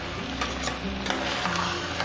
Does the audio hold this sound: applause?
no